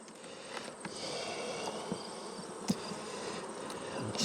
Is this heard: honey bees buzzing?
yes